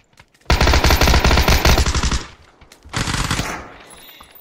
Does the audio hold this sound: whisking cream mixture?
no